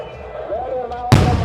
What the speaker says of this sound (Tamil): எட்டு இன்ச்சு வெடி எல்லாமே செம்மையாக இருக்குங்க